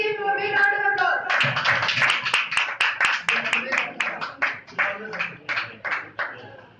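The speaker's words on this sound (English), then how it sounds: "Please give him a big round of applause." Hand clapping from an audience at an academy prize distribution, beginning after a spoken announcement, lively and dense at first, then tapering into sparse individual claps.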